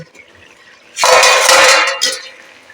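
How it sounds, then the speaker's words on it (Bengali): Metal lid lifted off a pot of boiling potatoes: a clattering clink, then a loud rush of steam and bubbling lasting about a second before fading back to quiet. "আমি ঢাকাটা একবার খুলে দেখবো জলটা কতটা মরেছে"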